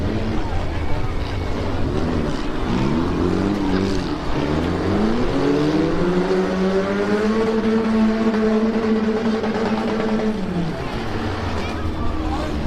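Demolition derby cars roar around an autocross track in heat racing at the Red River Rumble in Fargo, engines droning and rising and falling in pitch under continuous public-address commentary, with crowd and track noise filling the background.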